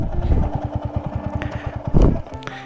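A motorcycle, fitted with a slightly worn tyre due for an Apollo H1 replacement, stands with its engine running in a close, rapid, even putter. A louder rev rises near the end.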